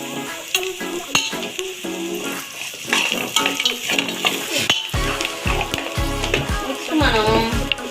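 A vegetable biryani mixture is stirred in a pan, spatula scrapes and clatters over a steady sizzle of frying, close and fairly loud, with no talking.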